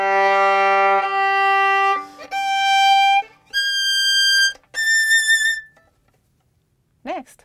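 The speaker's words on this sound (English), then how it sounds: "Let's take this tricky measure towards the beginning of the Lalo, which involves shifting within a fast tempo." Violin playing a fast Lalo passage slowed into an outline for practice, repeated once: five long, bright notes rising by shifts with brief pauses, close and solo, then a short voice at the end.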